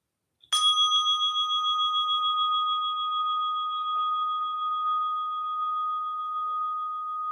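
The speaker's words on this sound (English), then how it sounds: "And even you hear the bell," A meditation bell at a silent retreat is struck once and rings on in a long, steady, shimmering decay that fills the quiet space with no other sounds.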